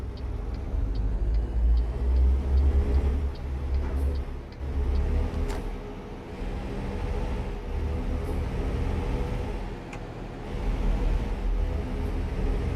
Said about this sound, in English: Had to be a car there.